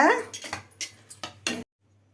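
Salt and grated coconut are stirred into flour in a metal pot, producing a run of scraping and clinking strokes from the utensil against the pot before falling quiet.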